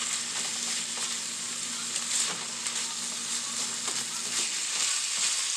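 Tomato beef frying in butter over high heat, a close, continuous crackling sizzle with scattered pops and a steady low hum underneath, no voices.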